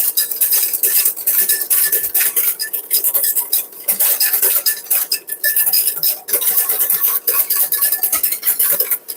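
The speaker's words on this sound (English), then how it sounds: "So you just keep whisking this way and then you" A whisk beats béarnaise sauce in a pan, fast continuous metallic scraping and rattling against the pan, loud and close, with brief breaks in the rhythm.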